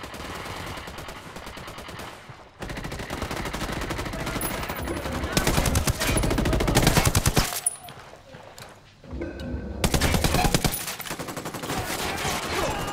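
Video game gunfire comes in several loud automatic bursts, with quieter gaps between them and a brief lull near the middle.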